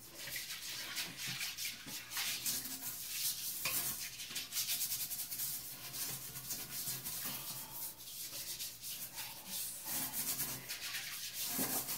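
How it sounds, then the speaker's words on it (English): A toilet brush scrubs a toilet bowl with hard water stains, a continuous wet rubbing and swishing in rhythmic back-and-forth strokes, close and moderately loud, with no talk. "I'm just going to get my little toilet brush here and I'm just going to give her a little scrub scrub."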